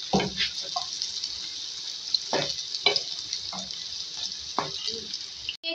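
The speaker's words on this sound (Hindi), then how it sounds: "इसको मिक्स किया हमने, हल्का सा फ्राई करेंगे 1 से 2 मिनट।" Thick green chillies fry gently in a pan of oil for dhaba-style bhindi, giving a steady close sizzle broken by several soft scrapes and taps of a stirring spoon, with no talk.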